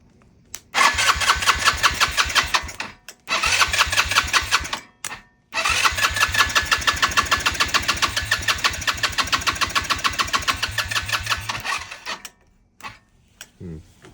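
A used quad ATV is being jump-started. Its starter cranks loudly and close in long bursts of rapid, rhythmic chugging, separated by short silent pauses, then fades to quieter sputters.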